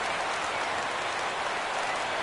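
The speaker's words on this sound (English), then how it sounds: "Crowd gets up for the 3-2." Crowd noise in a baseball video game on PS4, a steady wall of cheering and applause as fans rise for a full count, loud and continuous with no talk.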